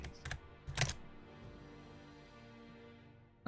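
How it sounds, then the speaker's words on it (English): A short burst of computer keyboard typing, a few close clicks clustered near the start, then quiet with a faint background tone. "He's typing now."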